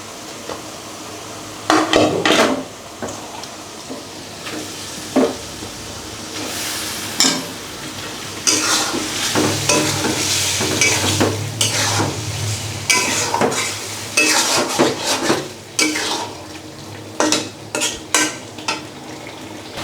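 Magur fish going into a pan of sizzling spice masala, close frying hiss under repeated clatters and scrapes of a spoon stirring against the pan, no talking.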